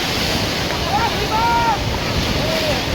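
Ocean waves rolling onto Jagannath Puri beach make a steady, loud wash of surf, with wind buffeting the microphone and faint distant voices underneath.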